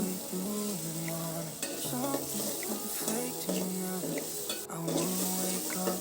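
Chopped shrimp with turmeric are stir-fried in a pan before jackfruit seeds go in. A constant sizzle runs under repeated scraping strokes of a spatula, with faint background sounds and no speech.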